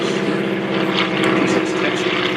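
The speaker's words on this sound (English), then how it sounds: "the low, slow Stearman with twin wings" A Stearman biplane flies low and slow past an airshow crowd, its propeller engine giving a loud, rough, throbbing drone that swells briefly, with a voice speaking over it.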